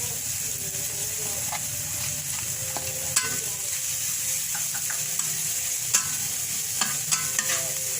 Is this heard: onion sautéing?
yes